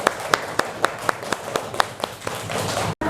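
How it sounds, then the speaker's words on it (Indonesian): Young children in a classroom clap for a classmate in a steady, evenly spaced rhythm of about a dozen sharp claps, close and clear, then blend into a continuous noisy murmur. "kita kasih tepuk tangan untuk Alka."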